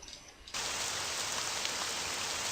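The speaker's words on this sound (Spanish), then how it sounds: "Y en el tercero vamos a poner la lluvia." Steady rain hisses in as an ambient sound effect in the game RPG Maker VX Ace, starting abruptly after a quiet half-second and then pouring evenly and loudly to the end.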